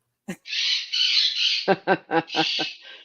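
Pet birds squawk loudly and harshly in a sustained burst, then a string of five or six short, sharp squawks in quick succession, close by.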